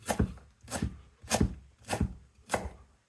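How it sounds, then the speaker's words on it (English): A knife thumps down onto a chopping board five times at a steady, unhurried pace, each a sharp close knock with a short crisp tail, smashing and slicing while preparing pickled red cabbage, no talk. "put it on your chopping board, put your knife over it, smash it down"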